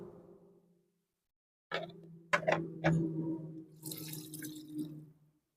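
Boiled noodles lifted out of a bowl of cold water give close wet splashes and drips in a few quick bursts, followed by softer trickling as water runs off, with no speech.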